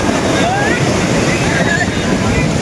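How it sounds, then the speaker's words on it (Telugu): Big ocean waves roll in at a crowded Goa beach, a loud continuous roar of surf mixed with heavy wind buffeting, with voices of the crowd faintly present underneath. "పెద్ద అలలు వస్తున్నాయి."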